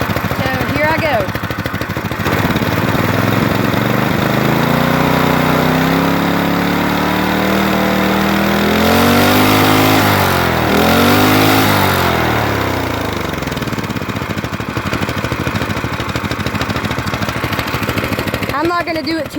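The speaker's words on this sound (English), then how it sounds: "You can hear this engine's revving relatively higher." A small engine is revved hard in repeated sweeps, climbing to a high whine near its limit around 7,000 RPM as the valves float, then dropping back to a buzzing idle, with a voice speaking over it.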